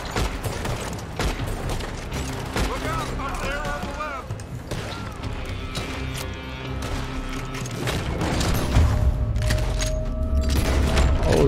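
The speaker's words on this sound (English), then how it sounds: "They're shooting from that building." Gunfire in the Red Dead Redemption 2 video game, with scattered shots and bangs mixed with in-game sound effects and music, partly masked by someone talking over the action.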